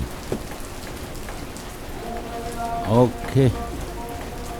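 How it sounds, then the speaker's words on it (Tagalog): Steady rain falling on a street during a Sunday mass, a constant hiss throughout, with a voice speaking briefly over it. "Umulan."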